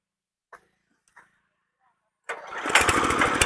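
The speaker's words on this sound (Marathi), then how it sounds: "मशीन स्टार्ट केलेलं आहे" A self-start diesel power weeder stays quiet apart from two short clicks, then fires up abruptly into a loud, rough, steady engine roar that continues to the end.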